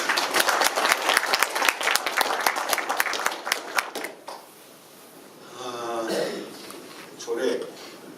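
Audience applause at a university seminar hall, a burst of dense clapping for about four seconds that breaks off abruptly, followed by a lone speaking voice.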